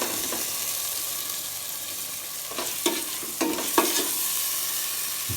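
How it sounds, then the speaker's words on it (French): Meat frying in olive oil in a pan for couscous, a steady broadband sizzle with a few louder scraping bursts of stirring near the middle and end, close and fairly loud, no talk. "vous faites revenir votre viande jusqu'à ce que soit bien frite"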